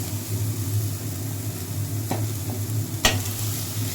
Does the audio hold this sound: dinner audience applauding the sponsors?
no